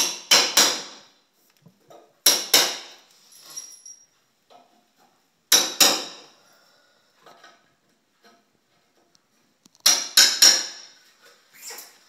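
A hammer taps bolts through cedar chair parts in four sharp bursts of quick strikes, close and loud, separated by quiet pauses with faint handling knocks between.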